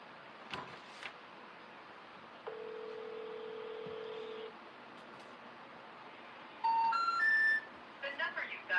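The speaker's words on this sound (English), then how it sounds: "The number you dialed is not in service." A telephone call being placed: a steady dial tone sounds for a couple of seconds, then after a pause a quick run of stepped DTMF dialing beeps, followed by faint electronic blips.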